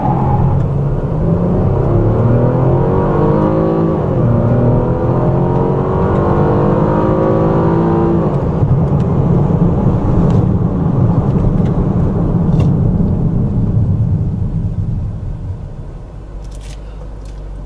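A 2014 Chevrolet Impala sedan accelerating hard, its engine note climbing steadily through a gear change around the middle, then settling into a lower steady drone before easing off near the end, loud and close with no talk.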